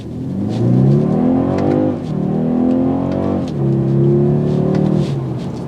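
A 2022 BMW 230i coupe accelerating hard, its engine revving up in three rising pulls with brief dips between shifts, close and prominent with no talk over it.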